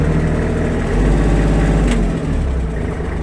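Kubota GL32 cab tractor engine running close by with a steady low diesel chug, loud and even, a brief dip in the rumble around the middle; no talking.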